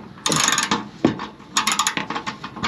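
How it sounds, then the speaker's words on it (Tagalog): A 10mm wrench ratcheting on a bumper bolt of a 2025 Toyota Wigo G, loud close clicking in two bursts with a short pause between, each made of rapid repeated pawl clicks. "gagamit tayo nito ng ating 10mm wrench and bubuksan lang natin yan"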